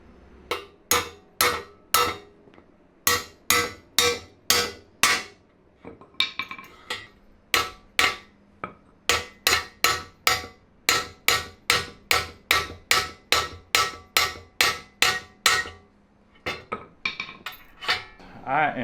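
Parts are hammered into place on a small Lil Rascal mini bike frame, producing crisp, close metallic strikes in steady repeated runs with occasional short breaks.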